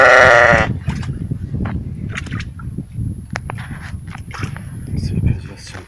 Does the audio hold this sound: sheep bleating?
yes